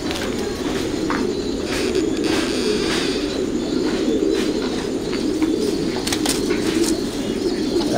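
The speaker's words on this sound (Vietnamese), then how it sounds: "Đây con chim bồ câu nó 15 ngày nè." Fifteen-day-old Thai Titan pigeon squabs coo in a low continuous murmur, with brief bursts of wing flapping breaking through, close and loud in a crowded loft.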